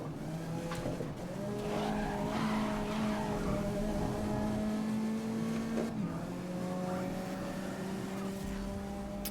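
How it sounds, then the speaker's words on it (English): A car in the racing video game GRID 2019 slides through a handbrake turn, its tires squealing in long skids over a steady revving engine, loud and close throughout. "Maybe we should start doing some handbrake turns."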